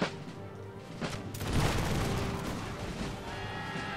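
A distant rolling volley of musket fire from line infantry in Empire: Total War, a crackling swell of many shots merging into one rumbling burst that fades slowly.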